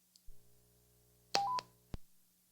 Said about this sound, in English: is just the end of transmission, which is the Roger beep that we're all familiar with.